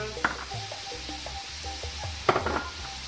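Noodles being stir-fried with peppers, salt, sugar and seasoning in a pan, a steady close sizzle broken by a few sharp clinks of a utensil against the pan.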